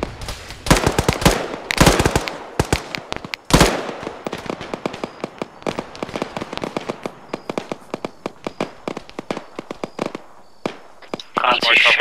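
Rapid bursts of gunfire in a war video game's hillside battle against heavy emplacements, loud sharp cracks clustered early then scattered shots continuing, with voices talking over the action throughout.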